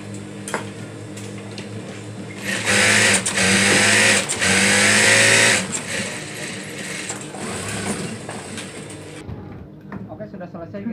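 A sewing machine stitches a foam cover for a water gallon in a diamond pattern, whirring steadily near at hand with a louder, faster burst in the middle while a voice talks over it.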